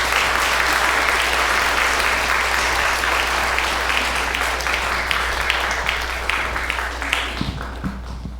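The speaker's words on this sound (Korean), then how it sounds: "저희 큰 박수로 맞이해 주시기 바랍니다." Sustained applause from a church congregation at a senior pastor's retirement service, welcoming a guest regional director to the pulpit; steady, dense clapping fills the room and thins out near the end.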